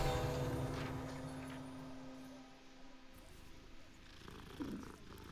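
Soft, low cats' purring rumbles steadily inside a shop in the video game Hogwarts Legacy, faint and close, with game ambience and a brief tone layered over it.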